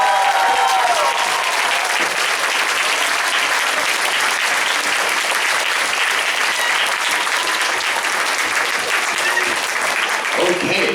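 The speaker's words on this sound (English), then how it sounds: "One more round of applause for everybody in here." Sustained audience applause fills a school concert hall honoring student performers, a dense, even wash of clapping hands that holds steady and loud for the whole stretch with no pauses.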